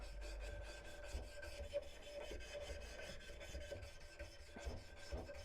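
Steady scraping rasp and sanding strokes on a carved wooden twisty spoon, a continuous close, rough rubbing texture with repeated back-and-forth passes and no talk.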